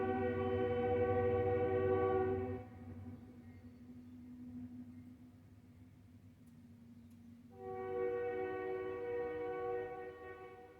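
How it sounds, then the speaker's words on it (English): A train passes near a residence, its horn sounding in long sustained blasts that cut out for several seconds and then return, with a low rumble of the rail traffic running underneath. "I don't know if you can hear that, but I live next to a train."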